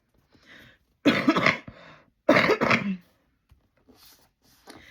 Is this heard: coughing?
yes